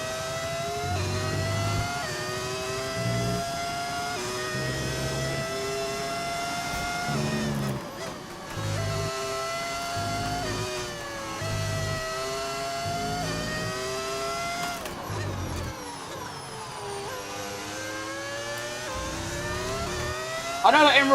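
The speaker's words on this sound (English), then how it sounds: "It's a mod you get on overtake.gg that turns your engine into a V10." A V10 sound mod roars from a car in the F1 25 racing game, loud and continuous, its pitch climbing through the gears and dropping on each shift, with repeated rising and falling sweeps across the lap.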